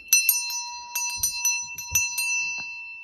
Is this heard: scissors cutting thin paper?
no